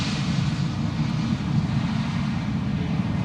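An Airbus A320neo at Schiphol Airport makes a steady low engine rumble with broad wind-like noise, moderately loud and unchanging through the short stretch, with no voices.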